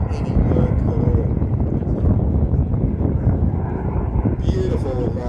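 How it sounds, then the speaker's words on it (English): A Hawker Sea Fury flies at an air show, its piston engine a steady, relaxed low drone with wind buffeting the microphone and a person talking over it. "That engine sounds like it's hardly doing any work at all."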